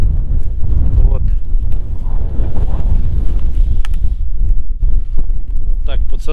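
Strong, cold wind gusts steadily across an open riverside camp on the Ili River, a loud continuous low roar buffeting the microphone throughout, with people talking faintly underneath.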